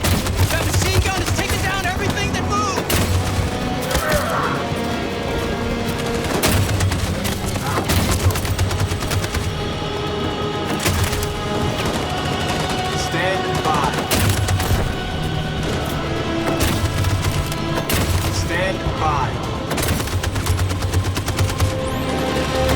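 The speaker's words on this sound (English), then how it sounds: "We can't move forward! That machine gun is taking down" Machine gun fire in a Detroit: Become Human battle sequence, sustained rapid bursts of shots at steady loudness, mixed with explosions and busy combat noise while voices shout over the din.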